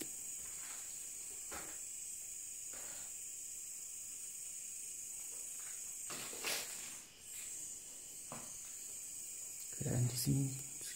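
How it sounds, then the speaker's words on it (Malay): Crickets chirp steadily in a quiet, old stone building in the hill station setting of The Gap, Fraser's Hill, a continuous high insect trill with a few soft knocks and footsteps near the end. "Keadaan di sini senyap cuma ni kedengaran bunyi cengkerik."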